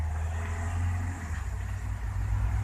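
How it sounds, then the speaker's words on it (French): Cars pass on a road below the listener on a Sunday evening, heard as a low, steady rumbling engine drone with slight swells, moderately distant and continuous. "il y a une route en contrebas et des bagnoles qui passent"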